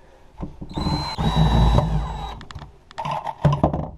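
Power drill boring pocket holes in wood: a close whining spin-up and grinding bite lasting about a second, then shorter bursts and clatter of handling the workpiece.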